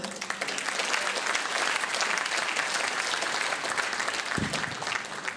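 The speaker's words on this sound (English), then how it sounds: "Please give a round of applause for Mr. Jonathan Arrow" Sustained audience applause greets a flamenco percussionist who plays the cajon, a steady wash of clapping from a crowd lasting the whole stretch.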